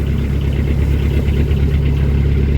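A canal boat engine runs near tick over on a short cruise, a steady low rumbling chug that stays loud and even throughout, with no voices.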